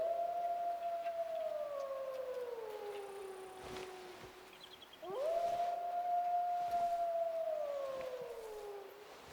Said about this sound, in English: We got some big bad wolves.